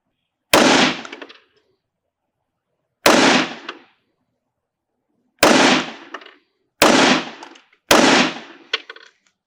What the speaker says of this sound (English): Just going to shoot a quick group out here, a 5-shot group.